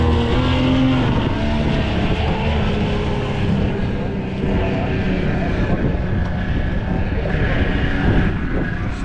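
A rebuilt 1976 Mercury 650xs race outboard motor runs on a test run, a loud continuous roar mixed with heavy wind buffeting. The pitch shifts gently, and faint voices may sit underneath.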